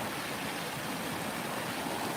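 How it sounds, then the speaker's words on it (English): Water pours over a small man-made waterfall and drop-off into a fish pool, a steady, broad rushing wash with no pauses, heard up close with no voices. "It's kind of a gentle and safe little man-made waterfall and drop-off"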